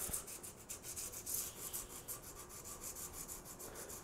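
150-grit sandpaper rubs against a wooden pen blank spinning on a lathe, giving a faint, close, continuous rasping hiss that pulses rapidly and evenly, with no voices.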